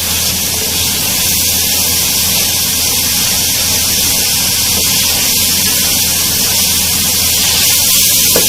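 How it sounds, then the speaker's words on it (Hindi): Chicken pieces in masala fry over a high flame, a loud, steady sizzling hiss that fills the whole stretch without a break, with no voices over it. "यहाँ फ्लेम हाई करके हम इसको थोड़ा अच्छी तरह से भून लेंगे कि हमारा ऑयल अलग हो जाए।"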